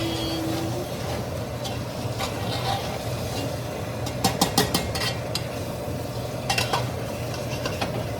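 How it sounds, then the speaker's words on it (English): Food being mixed in a pan on the heat, with a low continuous scraping under a steady stove hum, then a few bursts of sharp clicking taps against the pan near the end, close and quiet with no talk. "And then try to mix everything."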